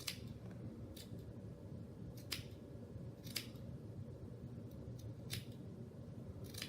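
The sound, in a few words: sharp scissors snipping paper garland loops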